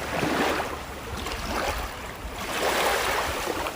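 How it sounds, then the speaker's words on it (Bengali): Water lapping on the muddy Payra river shore at night, soft swelling washes that rise and fall in gentle waves, fairly quiet and close. "পানির ছলছলানি শব্দের আওয়াজ নিতে"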